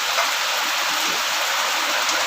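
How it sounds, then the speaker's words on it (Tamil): Steady rain pours over a farm village in Sengurichi, S. Pandiyanur, a dense, even hiss of water with no breaks, close and fairly loud throughout. "அதான் நம்ம மழை பெய்யுது"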